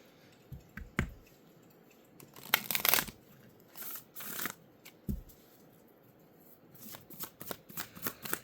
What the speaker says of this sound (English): I'm going to pull a Moonology card